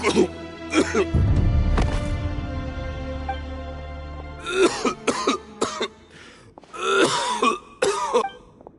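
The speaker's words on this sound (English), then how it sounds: "Why is he coughing so much?" A male character in a Genshin Impact cutscene coughs and clears his throat in a loud, harsh fit lasting a few seconds, then breaks into short bursts of spoken dialogue from game characters.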